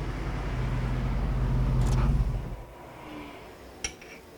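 A Jeep Liberty idling under a remote starter, its low steady engine rumble close by, then cutting out abruptly midway, leaving a quiet interior with a single small click near the end.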